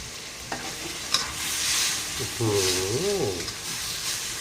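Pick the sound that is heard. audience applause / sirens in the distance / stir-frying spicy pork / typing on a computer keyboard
stir-frying spicy pork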